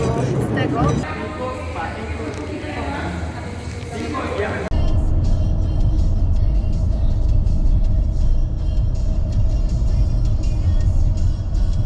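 A car driving along a road at evening, a steady low rumble of engine and tyre noise, heard from inside the car, with talking over the first few seconds before the road noise carries on alone.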